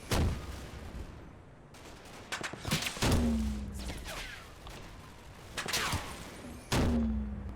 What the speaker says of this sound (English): I also want to see if any of the MG fire is making it this way